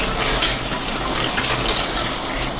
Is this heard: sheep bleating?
no